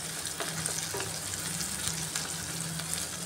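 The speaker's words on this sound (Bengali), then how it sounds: "এই পেঁয়াজটা দিয়ে একটু সময় নিয়ে গ্যাসের আঁচটা মিডিয়ামে রেখে ভেজে নিচ্ছি" Onions frying over medium heat in a pan for birista: a continuous soft sizzle with occasional light scrapes and taps of a spatula, close and steady.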